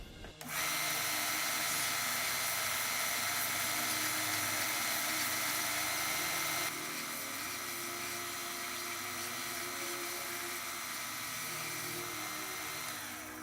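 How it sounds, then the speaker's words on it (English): A belt sander screams loudly and continuously as a wooden dowel is tapered against it, holding a harsh, steady whine with a slight drop in level halfway through. "It's going to get pretty loud with the belt sander"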